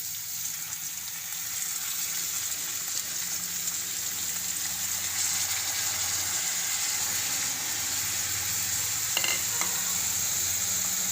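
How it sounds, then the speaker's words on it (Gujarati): Fenugreek leaves tossed into a pan of cooked carrots give a steady, soft sizzle with faint stirring, close and continuous, with a brief scrape of a spoon near the end. "તો હવે આપણે એમાં મેથી નાખી દેવું"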